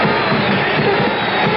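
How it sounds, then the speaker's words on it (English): A 1977 NBA arena crowd at a New Orleans Jazz versus New York Knicks game roars for a player, a loud sustained wash of cheering and noise with no break. "The fans cheering for Pete."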